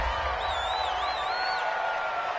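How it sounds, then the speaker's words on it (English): A home crowd roars and cheers steadily in a PS4 American football video game after a penalty call, a dense wash of stadium noise with a whistling tone sliding above it. "This home crowd, they're happy with that call."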